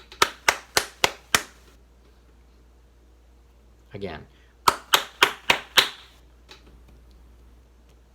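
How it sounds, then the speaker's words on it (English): Crisp, close hand claps in a music class tapping out a rhythm: a run of five evenly spaced claps, a brief spoken word, then another run of about six claps answering the pattern. "I'm going to clap the rhythm,"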